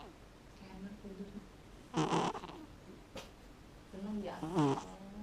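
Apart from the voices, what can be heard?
cat snoring while asleep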